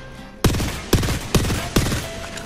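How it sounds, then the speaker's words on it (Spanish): Four sharp gunshots from a burst pistol in Apex Legends, evenly spaced about half a second apart, each with a booming tail, loud and close. "Yo lo disparé y como que se puso rápido."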